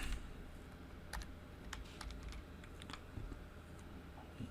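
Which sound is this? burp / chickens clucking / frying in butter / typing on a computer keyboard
typing on a computer keyboard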